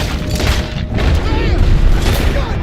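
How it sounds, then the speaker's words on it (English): Dense, loud gunfire in Red Dead Redemption 2 booms and crackles continuously, with rapid overlapping shots and a dull roar filling the background. "a crazy amount of gunshots is firing in his direction"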